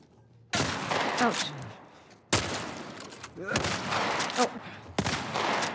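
Loud gunshots from The Last of Us Part 1 video game, four heavy blasts spaced about a second or two apart, each trailing into a ringing tail, with brief voiced exclamations in between.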